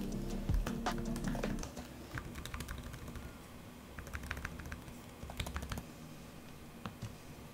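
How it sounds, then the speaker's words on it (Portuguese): Quiet typing on the keyboard of a Microsoft Surface Laptop Go 2, a brisk run of soft, close key clicks and taps with no voices, louder at first and then settling into a lighter patter. "o teclado, é muito fixe, é silencioso, muito agradável de escrever"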